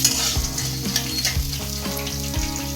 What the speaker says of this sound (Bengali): এবার আমি ছোলাগুলো আস্তে আস্তে ছেড়ে দেবো। ছোলাগুলো ভাজা ভাজা হলে